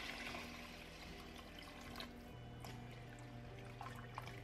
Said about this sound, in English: And then I also am going to add 4 cups of broth.